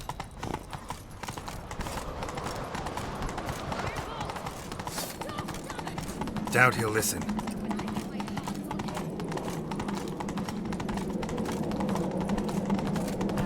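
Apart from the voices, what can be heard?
horse galloping hooves in The Witcher 3 video game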